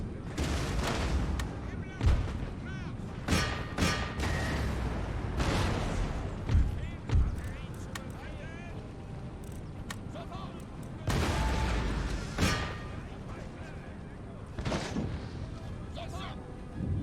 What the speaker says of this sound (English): This cannon shot should annihilate them.